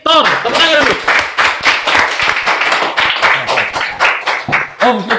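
An audience claps to welcome a guest on a pushbike talk show, a lively burst of close, distinct hand claps in uneven rhythm, with a voice speaking at the start and again at the end.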